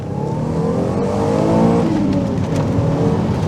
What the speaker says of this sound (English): I have no doubt in my mind that that's a 190 horsepower engine